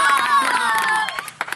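A crowd at a live Maithili comedy stage show cheers and shouts loudly and continuously, with excited voices dominating the din before it thins out into a few scattered outbursts.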